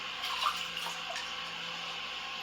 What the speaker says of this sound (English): sprinkle a little water along the blade and rinse the slurry off periodically